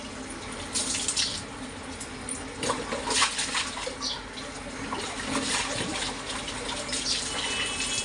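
Water runs from an opened tap through a pipe outdoors, a steady close splashing gush that goes on throughout with small shifts in the flow.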